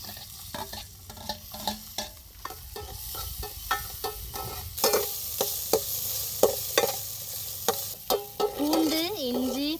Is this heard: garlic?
yes